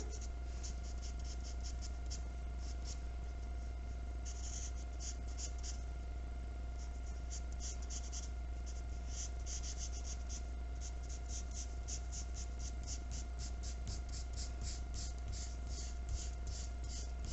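A graphite pencil lightly shades and feathers on paper, giving soft rhythmic scratchy strokes, close and quiet over a low steady background hum.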